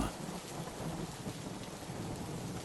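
Steady rain with a low rumble of thunder from an approaching storm, a continuous even wash of sound at moderate level with no voices.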